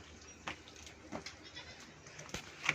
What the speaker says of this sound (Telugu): ఈ మూడు మేకలు ఇది చూడు మేక